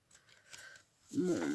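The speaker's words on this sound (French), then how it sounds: "Dès que je découpe le double face là" Scissors snip through double-sided tape close by, giving faint crisp cutting sounds, then a louder, rougher burst near the end.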